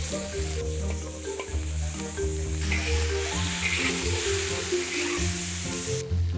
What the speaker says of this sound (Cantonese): 倒入魚肉翻炒